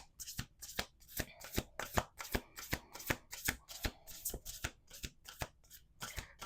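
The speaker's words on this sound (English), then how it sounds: "Okay, let's do 2 more shuffles." A deck of cards is riffled over and over in quick, rhythmic bursts, each a crisp flutter, close and fairly soft, with no talking.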